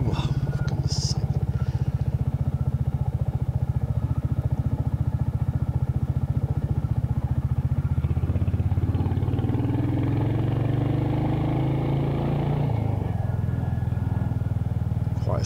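Royal Enfield Hunter motorcycle climbing a steep hill, its steady mid-pitched engine drone continuous throughout, rising in tone as it pulls uphill, with wind buffeting the microphone.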